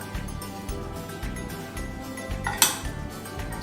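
Chole being stirred with masala and two tablespoons of oil in a bowl, a spoon scraping and clinking against the sides in steady, close strokes, with one sharper clink near the end.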